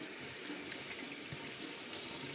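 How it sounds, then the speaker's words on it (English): Water poured into a cooking pot for rinsed minute rice, a soft continuous splashing and trickling stream, fairly quiet and steady throughout, with no talk. "we're going to put some water in here, in this pot"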